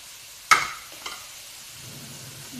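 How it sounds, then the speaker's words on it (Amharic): Food dry-roasts in a pan over a raised flame, with one sharp clatter of a utensil against the pan, a lighter knock, and then a soft, low sizzle continuing quietly. "በዚህ መልኩ ትንሽ እሳታችንን ጨምር አድርገን በደረቁ እናዋህዳለን ማለት ነው።"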